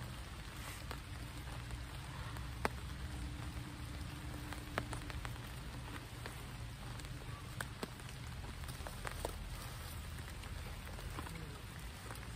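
Rain falling on a hammock rain fly at a campsite, a steady dense patter with scattered sharper drops close overhead, continuous and without talking.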